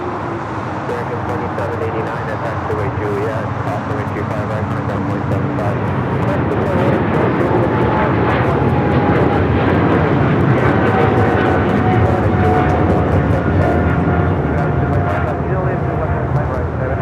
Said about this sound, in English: Philippine Flight 113, the 777-300ER heading back to Manila